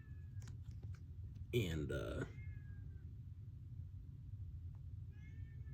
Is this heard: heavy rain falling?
no